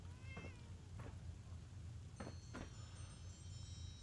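A cat in Skyrim meows faintly several times over a steady low background hum, with no speech.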